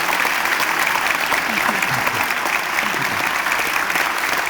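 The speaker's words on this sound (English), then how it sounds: "Can I ask for a round of applause for Julie and James?" Audience at a university talk about bats and owls breaks into sustained applause, a dense, steady clapping that fills the room with faint voices mixed in underneath.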